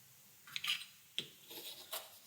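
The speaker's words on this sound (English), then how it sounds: "It is actually getting through that bottle cap a bit." An Ikea Vörda santoku kitchen knife cuts into a plastic bottle cap with a few faint, close scraping and clicking bursts amid near silence.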